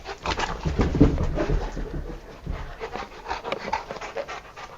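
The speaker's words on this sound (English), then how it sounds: "he's a nice dog" A dog pants heavily and rapidly close by, rhythmic huffing breaths continuing without pause.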